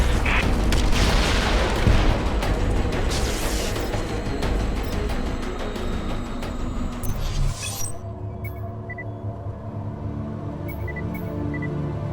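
Enemy rocket fire in the Anomaly 2 video game, with loud repeated booming blasts and crackling for about eight seconds, then a quieter stretch with faint tones.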